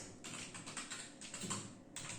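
Typing on a computer keyboard during a programming lesson on else-if and switch statements, a quick run of close, crisp key clicks in irregular bursts with short pauses.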